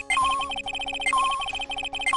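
Rapid electronic metal detector beeps from the Phoenix Wright Ace Attorney trilogy game repeat in quick bursts, with a brighter sustained tone recurring about once a second, loud and alone.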